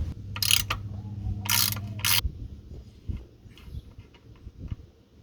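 A 3/8-inch square-drive ratchet working on a ZF5/ZF6 automatic transmission fill plug, giving three short, sharp clicking bursts up close, then quieter scraping and handling sounds with no talking.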